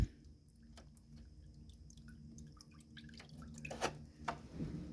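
Wet sanding paper dipped back into water during sanding on a boat build, giving soft intermittent drips and small splashes with a wet squishy handling sound, close and fairly quiet, with no talking.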